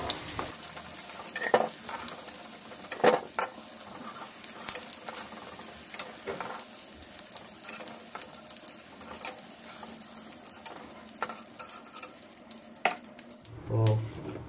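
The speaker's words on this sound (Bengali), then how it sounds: "এবার আলুগুলো নামিয়ে নেবো।" Fried potatoes are lifted out of a pan of hot oil, with soft sizzling under scattered scraping and clinking of a utensil against the pan, and a brief louder clatter near the end.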